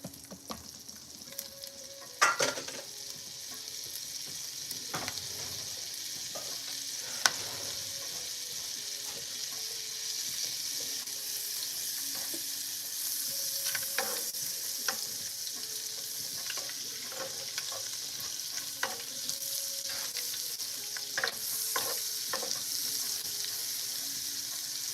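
Butter melts and sizzles steadily in a pan while gumbo greens are cooked, a continuous frying hiss with scattered clicks and clinks of utensils throughout.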